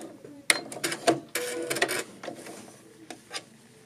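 A sewing machine tacking four or five stitches forward, back and forward on a knitted toque: short clattering bursts of stitching with brief pauses between, close and fairly loud.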